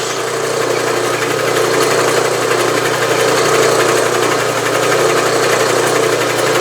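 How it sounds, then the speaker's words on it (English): Bridgeport milling machine running in a workshop while a rotary table is centred, a loud steady motor hum and mechanical whir holding constant with no talk. "The machine's still running."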